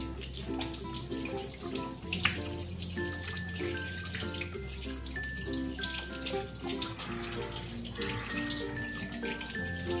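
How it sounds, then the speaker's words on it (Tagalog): Tap water runs steadily as hands are washed at a kitchen sink while cooking buttered fried chicken, a continuous close splashing hiss under background music. "maghugas lang ang kamay."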